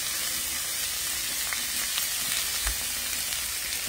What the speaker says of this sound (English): I'm sauteing some of the onions and all these freshness from the garden to put on my tacos